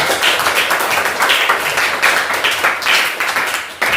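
A class claps for a group that has just presented on the parts of the eye, a short burst of uneven, moderately loud clapping from a small group that swells and dips in waves.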